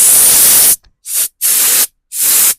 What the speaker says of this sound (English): If I spray air through, I can usually feel it coming out of that hole.